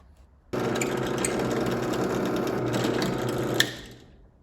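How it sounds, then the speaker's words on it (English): A Forstner bit boring a flat-bottomed hole to a half-inch depth stop in wood for a toy backhoe build: a drill press motor starts abruptly and runs with a steady, loud whine for about three seconds, then spins down. "I switched over to a Forstner bit for this one because I want a flat bottom on this hole here."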